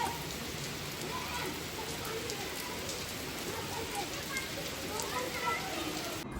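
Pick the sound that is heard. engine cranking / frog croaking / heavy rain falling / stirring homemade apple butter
heavy rain falling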